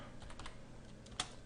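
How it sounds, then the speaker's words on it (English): A command is typed on a computer keyboard, producing a few soft, quick key taps at close range, followed by one sharper, louder keystroke near the end. "So I will type in net"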